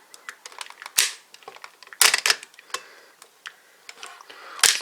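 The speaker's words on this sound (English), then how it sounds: "attach this onto here, which should click into place" A plastic Den-O toy belt from Masked Rider, its plate being fitted into the buckle, giving a scatter of small clicks and taps, with a few sharper louder snaps and no speech.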